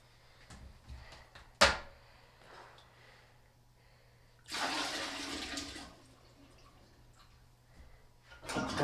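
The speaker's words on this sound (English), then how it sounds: "Most definitely flush your toilet." A household toilet flushes with a rushing gush of water lasting over a second, preceded by a sharp click of the handle or lid and faint bathroom clatter.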